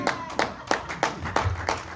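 Church congregation clapping in unison to acclaim Jesus, six sharp, evenly spaced claps at a brisk steady beat, with faint voices underneath.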